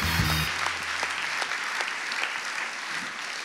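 An audience applauds at an industry awards ceremony after a heating company receives a prize. The clapping is sustained and even, a broad wash of many hands, after a brief tone at the start.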